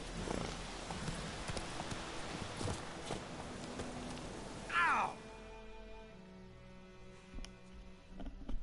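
Horse hooves clip-clopping in The Witcher 3 video game, a rhythmic trot of hoofbeats on the ground that cuts off midway, followed by a brief squeal and quieter thuds.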